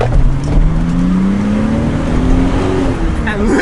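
Datsun 280Z with a 1970s six-cylinder engine and basically stock exhaust, heard from inside while driving: a steady, loud engine drone that rises gradually in pitch as it accelerates, with a low rumble underneath throughout.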